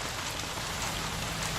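Rain falling in the video game LA Noire, a dense steady hiss of drops pattering on surfaces, continuous and even with no voices over it.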